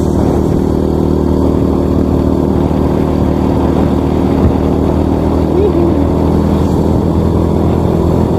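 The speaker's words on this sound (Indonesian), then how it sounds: "Sorry ini berisik ya, nih agak mengerang motornya. Motor jadul." An old motorcycle engine drones loudly and steadily, straining with a constant low rumble and wind noise throughout.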